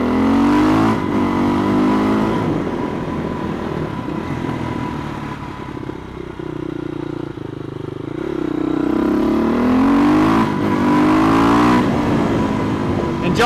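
Supermoto motorcycle ridden on a sunny day in Taiwan, its engine droning steadily with rising revs and gear-change swells throughout, loud and close, with wind noise mixed in.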